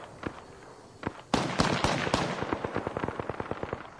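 Rapid gunfire in a PS4 shooter game, a few scattered shots followed by a dense burst of sharp, loud cracks in quick irregular succession, close and dominant.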